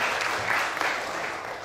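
Congregation at a worship and praise ministry seminar claps in a short, full burst of applause that holds steady and fades slightly, with no talking over it.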